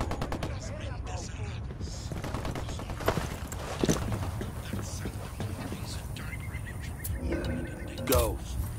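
Gunfire in the tactical shooter Ghost Recon Wildlands: scattered sharp shots and short bursts crack out over a battle, with voices speaking throughout.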